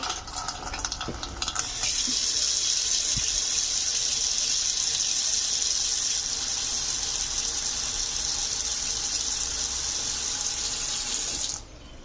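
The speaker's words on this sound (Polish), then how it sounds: "Uzupełnimy wodę." Water pours steadily into a solar garden fountain being refilled, a loud, continuous splashing rush lasting about ten seconds that stops abruptly near the end.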